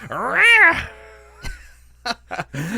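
A human voice imitates a cat being flung over someone's shoulder, giving a long rising-and-falling yowl followed by short squeaky meow-like bursts, loud and close.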